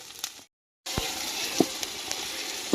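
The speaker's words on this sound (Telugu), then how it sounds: "మొత్తం అయితే బాగా ఫ్రై అవుతున్నాయి" Spices for pulao frying in a pan give a close, steady sizzle, cut by a short moment of silence before it resumes with a few sharp pops and clicks.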